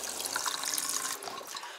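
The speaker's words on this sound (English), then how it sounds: "The water comes down the sink through this pipe" Water runs steadily down the sink drain of an Airstream RV into the waste tank plumbing, a continuous close, hissing wash with no voices.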